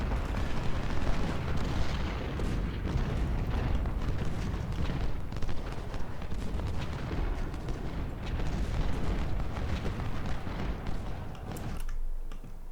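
Cannon and artillery fire rumble through a battle in the Ultimate General Civil War strategy game. Dense, overlapping booms roll continuously at moderate level before tapering off near the end, with no voices.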